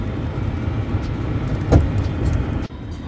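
A Tesla Roadster fitted with a new Dynam Labs motor controller drives along, giving a steady road and motor hum with a brief louder swell near the end, heard from inside the car with no talk.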